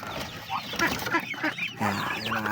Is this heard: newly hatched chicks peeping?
yes